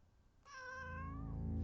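Cat meowing in a video game, a single drawn-out meow that starts abruptly and holds for about a second, close and clear, followed by a low rising rumble underneath.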